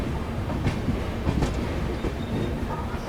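Shivamogga–Chennai weekly express on a diverted route, rolling into Ballari Junction, heard from on board as a loud, close, steady rumble with clattering wheels and no voices.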